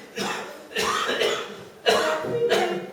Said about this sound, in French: Je suis allergique à la fumée, ça me fait tousser.